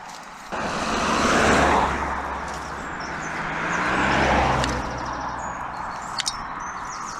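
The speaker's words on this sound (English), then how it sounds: "the traffic really has picked up now" Vehicles on a busy highway sweeping past close by, two loud swelling passes in a row over a constant roar of traffic, with faint bird chirps above.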